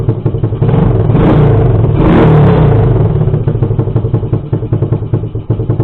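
A cheap Chinese 110cc quad engine idles just after starting without choke, a loud close putter with a slight rev swell early, then settling into a steady, rapid chugging.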